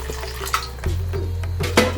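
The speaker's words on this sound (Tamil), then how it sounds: "சேர்த்துட்டு ஒரு 1/4 டம்ளர் தண்ணி." Water poured into a cooking masala of ground paste for a wedding-style raw banana curry, a quarter tumbler added in a brief splash and trickle over a low steady hum, with a short clink near the end; no one speaks.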